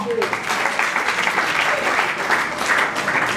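A theatre audience applauds a comedy committee as its members stand at a show, with dense, continuous clapping filling the hall from start to finish and brief voices mixed in at the start.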